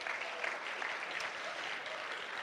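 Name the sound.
audience applauding and cheering for a speaker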